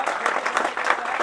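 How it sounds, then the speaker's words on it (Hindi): Audience applause at an anniversary celebration event in India, a brief burst of dense, crackling clapping from a crowd. "मीणा मेजर के लिए जोरदार तालियां।"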